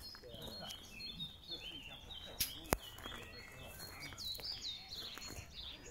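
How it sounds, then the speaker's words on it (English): Birds chirp and sing throughout a garden, with many small calls overlapping at a moderate distance, a couple of sharp clicks midway, and faint movement in the background. "And then you can hear the birds."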